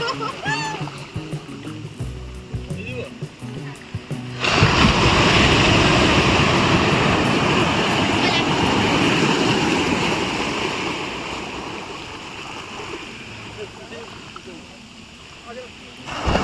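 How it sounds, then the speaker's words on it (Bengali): Sea waves roll and crash loudly and up close on Digha beach at dawn, a broad continuous roar that swells and slowly fades. A person speaks briefly before the surf rises. "সমুদ্রের আওয়াজটা শোনাই।"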